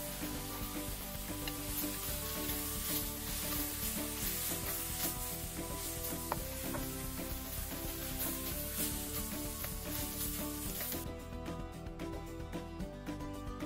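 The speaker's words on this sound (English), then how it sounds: "Stir fry it until it turns lightly brown color. Then add in the rice." Rice stir-fried in one pot for Hainanese chicken rice sizzles steadily and close, with scraping stirs of the utensil against the pan running throughout and no voices.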